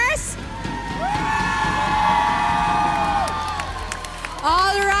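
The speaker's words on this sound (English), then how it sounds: "a round of applause for our winners" An esports crowd cheers and whoops for the winners of an MPL Malaysia match, a loud and sustained roar of shouting with applause, as an announcer's voice speaks over the noise.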